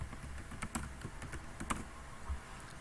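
Computer keyboard keys pressed for copy shortcuts, a quick run of light clicks and taps close by over faint room noise, with no talking.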